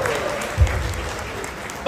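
Loud applause from a live audience at the close of a Kannada stage drama performance in a mall, a dense steady clapping wash running throughout with a brief heavier swell partway through.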